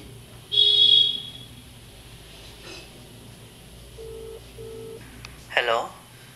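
Telephone keypad tones as a friend's number is dialed, a few short tonal beeps at moderate level followed by a brief sharper chirp near the end, in a quiet indoor room.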